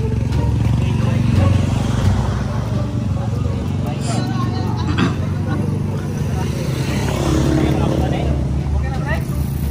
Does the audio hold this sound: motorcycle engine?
yes